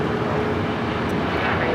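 An airliner taking off from runway 25 right at LAX gives a steady, loud, broad engine roar with no break across the short stretch.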